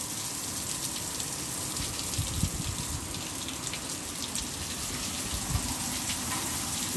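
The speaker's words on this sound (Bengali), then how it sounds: "মানে এই ভয়ানক বৃষ্টি।" Heavy rain pours steadily in Goa, a dense, continuous roaring wash of water with no break, heard close and loud throughout.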